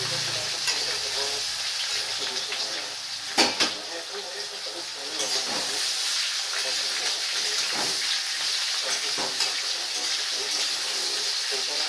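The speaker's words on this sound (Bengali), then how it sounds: "ফোড়ন ভাজা হয়ে গেছে, এবার আমি কচুলতিটা দিয়ে দিলাম।" Taro stems (kochu lati) frying in oil after whole spices were tempered, for a Bengali chachchari: a steady broadband sizzle runs throughout, with occasional louder stirring scrapes and clatters in the pan.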